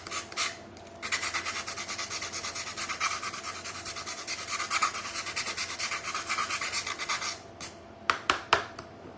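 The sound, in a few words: sanding a wooden home decor frame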